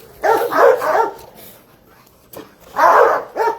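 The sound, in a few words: dog barking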